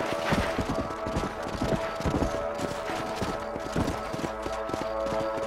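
Horse hooves clip-clop steadily in Red Dead Redemption as a rider patrols ranch property, a brisk even rhythm, close and clear over faint outdoor ambience.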